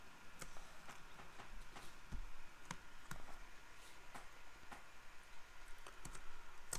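Keys on a computer keyboard are pressed for shortcuts while running Ubuntu GNOME 16.04 LTS, sparse, quiet clicks spaced irregularly, sometimes in quick pairs, against a faint background hiss.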